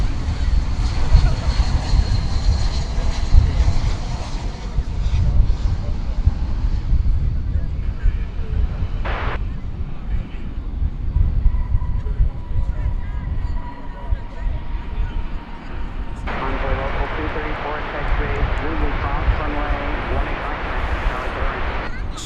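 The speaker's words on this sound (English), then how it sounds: "So that plane again was coming in from Phoenix," An airliner landing at DFW Airport gives a long, low, rumbling jet roar with wind buffeting, heard from a distance, fading and swelling over some twenty seconds.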